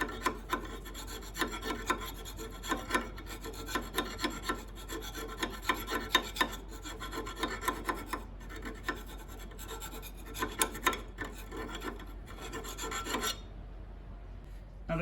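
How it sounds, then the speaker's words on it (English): A round file scrapes back and forth inside the pin bore of a stuck brake caliper on a 1994–1996 Chevy Impala SS or Caprice 9C1, steady rhythmic rasping strokes close up, stopping just before the end. "you can get in there with a round file"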